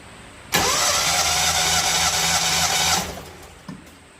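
An engine in neutral cranks over steadily on the starter for a compression test, about eight revolutions' worth of loud, even churning for roughly two and a half seconds before it stops, with a brief knock afterward.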